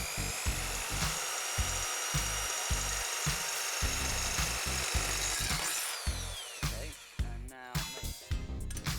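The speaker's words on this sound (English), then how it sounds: "I spent some time getting the drill at the right angle before drilling the hole" A power drill whines steadily while boring a hole into wood, with bursts and pauses near the end as the bit pushes through; close and loud, no talking.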